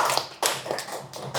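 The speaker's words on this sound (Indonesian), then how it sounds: "Tepuk tangan, ikut tepuk tangan." Applause at a gathering honoring a Kimchi grand finalist, heard as a few sharp, close claps landing in an uneven rhythm over a short moment.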